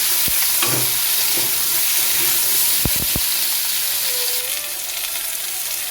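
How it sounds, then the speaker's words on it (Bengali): Potatoes with tender tomatoes frying until browned in a pan for Bengali alu posto, a bright steady hiss of sizzling oil throughout, punctuated by a few sharp clacks of a spatula on the pan, close and with no talk. "আলুটা লাল করে ভেজে নিচ্ছি আলু ভাজতে ভাজতে এর মধ্যে দু কচি টমেটো দিয়ে দিচ্ছি টমেটোটা আলুর সাথে ভেজে নিচ্ছি"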